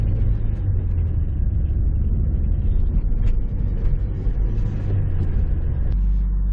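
A manual-transmission car pulls away in first gear, its engine giving a steady, loud, close low rumble from inside the cabin with no voices.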